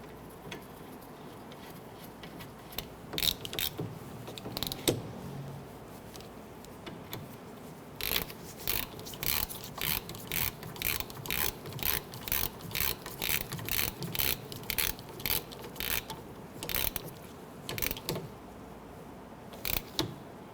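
A ratchet clicks in quick bursts while rear brake caliper bracket bolts are tightened on a 2006-2014 Honda Ridgeline, close and steady after a few scattered mechanical clicks and pauses.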